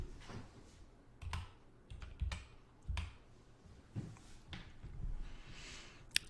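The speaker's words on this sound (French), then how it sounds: "nous allons taper ici USDT" Someone types a search entry on a computer keyboard: quiet, irregular clusters of soft keystroke clicks with short pauses in between.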